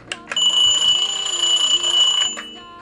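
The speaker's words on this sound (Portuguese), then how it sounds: "Eu trouxe esse despertador para me despertar." A travel alarm clock rings with a shrill, steady electronic beeping for about two seconds, close and loud, then stops.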